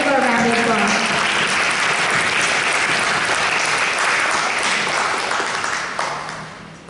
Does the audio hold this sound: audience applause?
yes